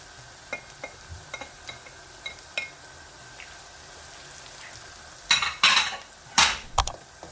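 Chopped tomatoes and green chillies are tipped into a pan of frying aubergine masala, with a few soft taps and clinks, then louder sizzling bursts and stirring near the end.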